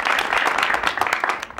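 A studio audience behind the scenes of a talk show claps in rehearsal, a brisk burst of many hands close by that stays loud and dense, then thins toward the end.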